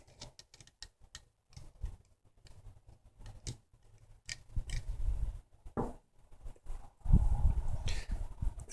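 Unscrewing the tank from an iTaste VTR vaporizer: a string of small, close clicks and scraping turns, with denser handling and rustle toward the end.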